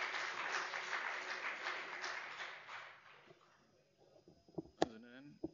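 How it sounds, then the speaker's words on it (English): Conference audience applauding at a Software Freedom Day event, steady clapping for about three seconds that fades out, followed by a few scattered taps and handling noises. "let's give them a warm round of applause of their contribution and continued support for OSFP"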